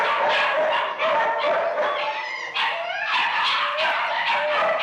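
Several dogs bark, yip and whimper in a kennel in a radio drama, a close, busy chorus of overlapping barks that goes on throughout.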